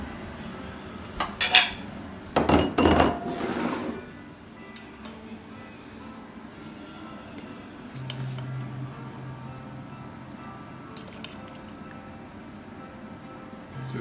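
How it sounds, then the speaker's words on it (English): Bowls and cutlery clink and clatter as pasta amatriciana is served, a few sharp knocks early on and then quiet, faint handling sounds. "So we're just going to dish it up."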